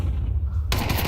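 Automatic rifle fire in a Counter-Strike pro match at IEM Cologne 2024, a sudden loud rattling burst cutting in after a low hum of game ambience.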